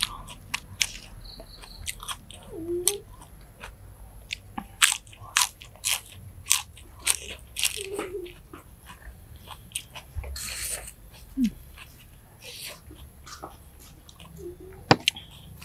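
Close, crunchy bites and chewing on grilled squid stuffed with egg and doused in seafood dipping sauce, with irregular crisp crackles and wet mastication sounds scattered throughout, no talking.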